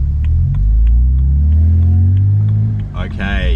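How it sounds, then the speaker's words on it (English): Engine of a BMW E90 with a built motor and 8HP70 automatic transmission, cold and slipping under acceleration: a loud, steady low rumble whose pitch flares upward and sags as revs climb without the car pulling, with talk over it. "Quite a lot of trans slip, actually."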